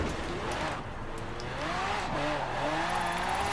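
A Lamborghini Aventador J with a big V12 engine, driven in Forza Horizon 4, revs with rising and falling howling engine tones through gear changes, loud and continuous, with faint tire noise beneath.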